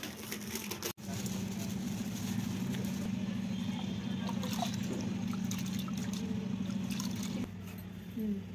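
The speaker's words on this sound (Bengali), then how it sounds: "আমি যাই গিয়ে চালটা ধুয়ে নিই" Water running while rice is washed in a home kitchen, a low steady trickle and splash that continues for several seconds, briefly cut off near the start and thinning out toward the end.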